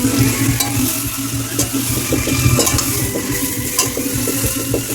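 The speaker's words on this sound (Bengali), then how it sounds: "এবার চিকেনটা ছেড়ে দেবো ম্যাগনেট করা চিকেনটা পুরো ম্যাগনেট করা চিকেনটা দিয়ে দেবো এতে" Marinated country chicken drops into hot oil in a pan and fries with a loud, steady sizzle, spatula stirring and scraping through it, close by and without speech.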